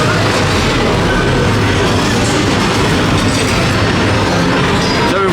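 Voltron Nevera roller coaster train at Europa Park rolling along its track, a steady loud rumble with rail clatter and wheel noise running throughout, no voices.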